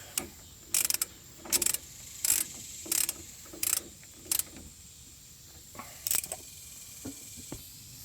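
A ratchet snugs a brake caliper bolt on a 2011-2019 Ford Explorer, heard as close, quiet bursts of quick clicking spaced a second or so apart, with a few softer clicks at the end.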